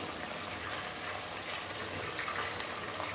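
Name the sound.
washed gongura leaves added to hot oil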